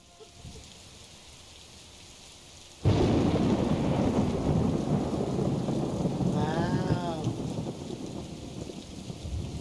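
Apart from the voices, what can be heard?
rain and thunder in video game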